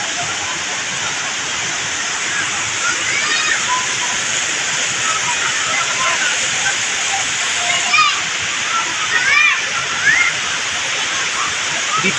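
Strong, steady roar of Aliwagwag Falls pouring through a forested gorge, a dense continuous rush of water with faint chirps and voices barely poking through the wash.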